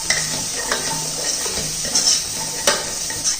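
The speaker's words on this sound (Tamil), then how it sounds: "இப்போ வெங்காயத்தையும் வெள்ளைப்பூடையும் நல்லா வதக்கிட்டோம்." Onion and garlic sauté in a hot pan for a weight-loss soup, a steady close sizzle with occasional clinks and scrapes of a spoon against the pan, and no voices.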